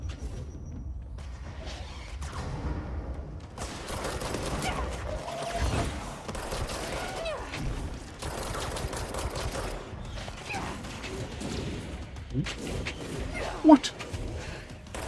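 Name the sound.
gunfire in the video game Control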